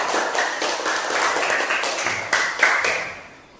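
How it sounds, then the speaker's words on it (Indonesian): A class of schoolchildren applauding a student group as it returns to its seats, a dense patter of many hands close by with a couple of louder peaks before it fades out. "Tepuk tangan dulu untuk kelompok 3."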